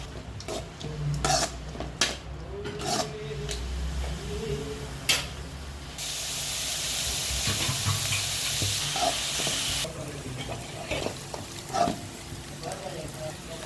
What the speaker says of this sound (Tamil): எண்ணெய் ஊற்றி வெங்காயம் போட்டு நல்லா வதக்கிக்கலாம்.